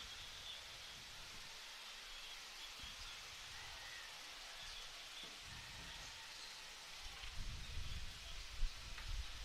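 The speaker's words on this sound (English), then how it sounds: "Looks like the rain has advanced through Marshalltown here" Rain falling over an outdoor softball field in Marshalltown, a steady soft hiss of drops that swells slightly louder toward the end, with no talk over it.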